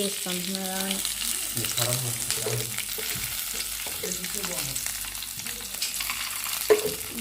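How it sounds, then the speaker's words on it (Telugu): Tomato frying in oil in a home kitchen, a steady soft sizzle with some stirring, heard under nearby household talk and a voice. "తగినంత ఆయిల్ పోసుకొని ఫ్రై చేసుకున్నాం దీన్ని"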